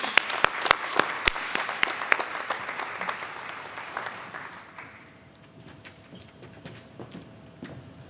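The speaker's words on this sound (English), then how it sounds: "Please give all of the students a collective round of applause for their achievement." Applause from a commencement ceremony audience, starting with sharp, close claps over a dense crowd wash that gradually thins and fades to scattered claps.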